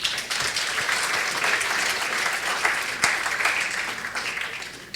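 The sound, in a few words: applause in church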